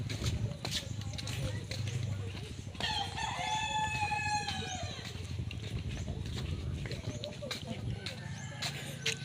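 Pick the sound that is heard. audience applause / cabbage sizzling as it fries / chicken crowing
chicken crowing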